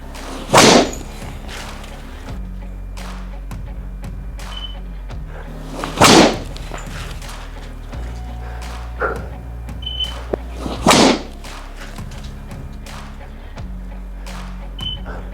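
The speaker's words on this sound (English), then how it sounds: "We're going back to the driver, hitting golf balls again, this time 140 miles per hour." A golf driver striking golf balls at 140 mph: three sharp, loud cracks of impact spaced about five seconds apart, with quieter background noise and small knocks in between.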